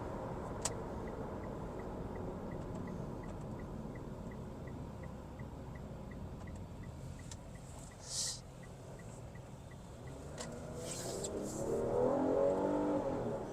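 A Mitsubishi Outlander 3.0 GT cruises at speed, a steady broadband road and engine drone filling the cabin, with a slight rise in engine note near the end.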